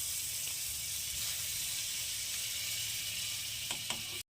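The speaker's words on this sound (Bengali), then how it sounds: "তো কড়াইতে দিয়ে দিচ্ছি আবার একটু বাটার।" Butter melting in a hot kadai gives a steady, close sizzling hiss that holds evenly throughout, with a few small clicks and pops near the end before it cuts off abruptly.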